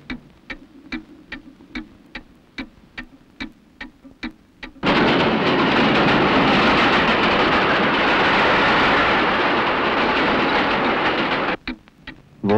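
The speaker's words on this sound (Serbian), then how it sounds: "Vozovi prolaze" A train passes on rails: a run of regular rhythmic wheel clacks over rail joints, then a loud sustained roaring rush as it goes by close, ending with a few more clacks, alone without talk.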